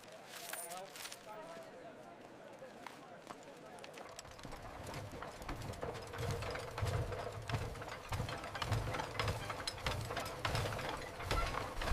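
A hand-operated printing press with inked rollers is worked in a 1750s London street scene, giving rhythmic mechanical clunks and ratcheting that grow steadier and louder after a few seconds, with voices and street bustle behind.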